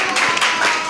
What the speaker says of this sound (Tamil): எல்லோரும் கரகோஷம் எழுப்பி அவங்களே உற்சாகப்படுத்துவோம்